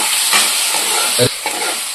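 Mutton blood fry sizzles steadily in a hot pan with a broad hiss, broken by a few soft scraping stirs; no voices.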